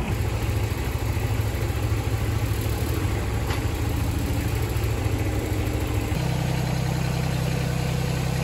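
A diesel engine with a glow plug system, fitted to a Ranger utility vehicle, idles steadily and loudly with a constant low rumble, its tone shifting slightly partway through, with no talk over it.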